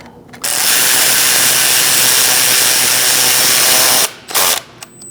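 A power tool tightens an intake manifold bolt on a 2008–2014 Mercedes-Benz C300 3.0L V6, a loud continuous whirring drive running for about four seconds, then cutting out with a couple of short bursts.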